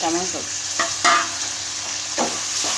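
Onions sizzle in a hot pan for egg curry, a steady close frying hiss broken by a few scraping stirs of the spatula.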